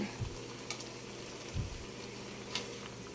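Chop suey with quail eggs is stirred in a pan over a soft, steady sizzle, with a few faint utensil taps and scrapes against the pan, quiet and close.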